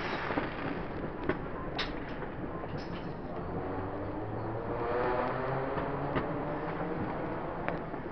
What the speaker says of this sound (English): Getting all the fireworks.